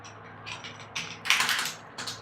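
Several quick clicks from a Consistent Radium wired gaming keyboard come in short clusters, with a louder burst of rapid keystrokes in the middle, close up and without speech.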